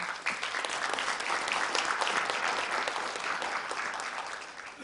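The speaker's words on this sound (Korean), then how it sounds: "큰 박수로 받아주시기 바랍니다" Steady, loud applause from a large conference audience, continuous clapping that holds for the whole stretch without pause.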